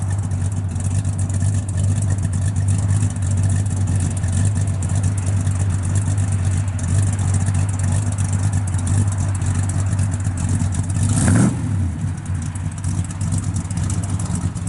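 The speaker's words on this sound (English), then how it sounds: "Good sounding car." A 1966 Chevrolet Chevelle SS 396 with a built 396 V8 and four-speed rumbles at a loud steady idle on a cold day, with one brief rev near the end.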